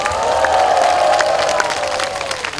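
An indoor audience gives a member a short burst of applause, a dense, steady patter of clapping that holds throughout and starts to thin slightly at the end.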